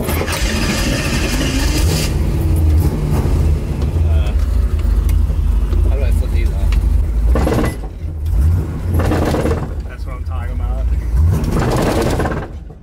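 A Toyota AE86 engine roars loudly and steadily through a reverse burnout, holding high revs, then drops away briefly before surging back in bursts, with voices talking over it.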